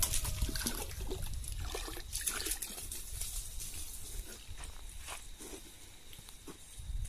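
Water from a garden hose trickling and splashing into a dug basin around banana plants outdoors, a soft continuous dribble with faint rustles and light footsteps nearby.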